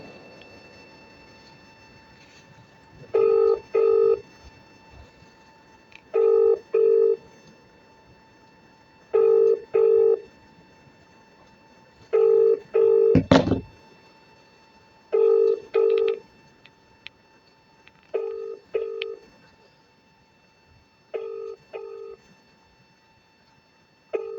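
A telephone repeatedly rings, steady paired bursts of an electronic ring tone about every three seconds, with one brief sharp click of dialing or handset noise midway and no talking.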